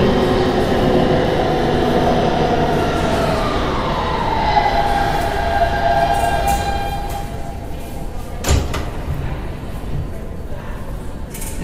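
A Kawasaki R160B Siemens G train on the IND Crosstown Line in Roblox runs loud and steady, its rumble and a rising whine carrying throughout, with a sharp clank near the end.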